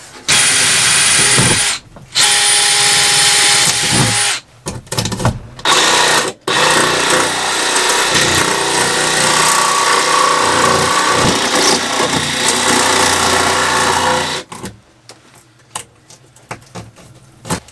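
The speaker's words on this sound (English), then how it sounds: "I got my little hole drilled out" A cordless drill bores a hole for an outside light fitting in the ceiling of a vintage RV, running loud and steady for long stretches with brief stops, then winding down as the old battery fades near the end.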